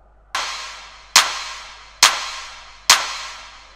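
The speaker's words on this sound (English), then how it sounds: "and these claps sound like this." Four electronic clap samples in FL Studio hit at an even, steady pace, each a bright, snappy burst with a quick decaying tail, heard alone without any voice.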